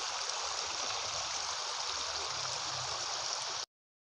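A shallow, shrunken river in the countryside flows steadily with a bright, hissing rush of water close by, constant and unbroken for several seconds before cutting off abruptly.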